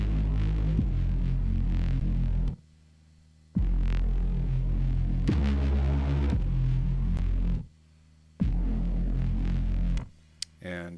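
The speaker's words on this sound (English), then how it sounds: "It is a Reese bass. Sounds like this." A deep Reese bass synthesizer drones in long, thick, throbbing sustained notes separated by short gaps, loud and alone with no voices.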